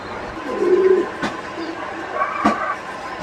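A pair of pet pigeons coos near at hand, one throaty burr early on, then quieter murmurs, with a couple of sharp clicks and a faint low rumble underneath.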